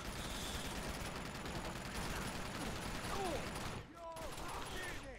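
Gunfire rattles steadily in the action video game Uncharted 2: Among Thieves, a loud, sustained fusillade that drops out briefly before resuming, with game sound effects chirping over it.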